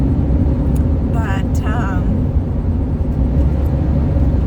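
A camper van on the road, its engine and tyres making a heavy, continuous low rumble close by, with a voice speaking briefly over it.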